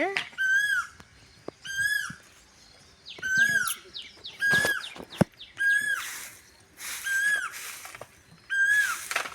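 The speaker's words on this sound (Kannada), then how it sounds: "ಕೋಗಿಲೆ ಇಟ್ಟು ಚಂದ ಉದ್ರಾತೈತೆ" An Asian koel sings a repeated rising call about every second, loud and clear against a quiet background, with other birds chirping faintly around it.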